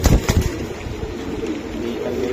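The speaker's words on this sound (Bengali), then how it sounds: "এটা হেরিকেন জাতের কবুতর" A Hurricane breed pigeon coos nearby in low, rolling calls, opening with a few soft thumps of handling, while a voice speaks quietly in the background.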